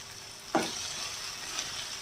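Chopped green chillies tossed into a hot pan for shredded chicken fry, setting off one sudden sizzling burst that settles into a steady background frying hiss.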